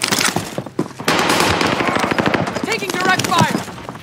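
Automatic gunfire in Call of Duty: Warzone, with dense, loud rapid bursts of shots running almost without pause, and a player's voice talking over it.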